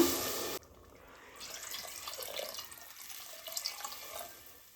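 Water pours into a cooking pot of rice for egg biryani. A brief loud splash opens, then a steadier, softer stream of running water continues to the end.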